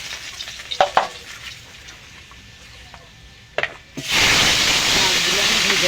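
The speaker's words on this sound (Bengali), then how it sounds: "মাছগুলো আমি ভেজে নেব, সব মাছগুলো এভাবে।" Tilapia fish frying in hot oil in a kadai: a few light utensil taps, then a loud, steady sizzle that swells and holds close by.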